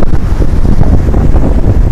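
Strong typhoon wind buffets a microphone by the sea, a loud continuous low roar with gusty rumbling throughout.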